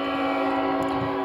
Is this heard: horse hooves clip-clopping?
no